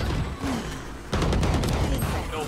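Gunfire in the tactical shooter Valorant, a dense burst of rapid shots breaking out halfway through after quieter game sounds, loud and close with faint talk around it.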